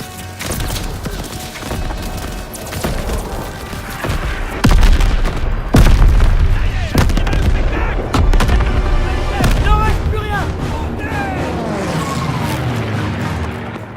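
Artillery assault in the Call of Duty WWII campaign: heavy booms and rapid gunfire crackle amid chaotic battlefield noise, with shouting voices and rising whistling shells, loud and dense throughout.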